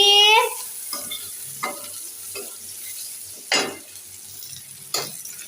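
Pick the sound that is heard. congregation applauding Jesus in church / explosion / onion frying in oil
onion frying in oil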